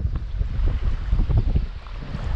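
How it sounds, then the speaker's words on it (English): Steady wind blowing at a lakeside dock where whitecapped waves churn the water, a dense, continuous low rumble of buffeting gusts and microphone wind noise close to the recorder, with no talking. "I will say it is a little bit windy outside."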